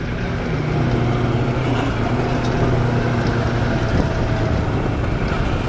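A Moto Morini X-Cape motorcycle engine drones steadily at low revs while riding a mountain road, a dense, continuous rumble mixed with wind rush, with no talk over it.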